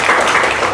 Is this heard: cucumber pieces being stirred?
no